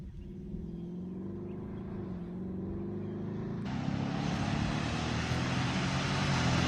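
A Ford Mustang 5.0 V8 with a louder exhaust: a deep, continuous engine rumble sounds close by and swells noticeably louder and rougher partway through, with no talking.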